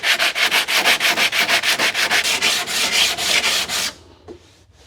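Rhythmic back-and-forth sanding strokes on body filler on a car panel, about four per second, rasp loudly and closely, then stop abruptly, leaving quiet.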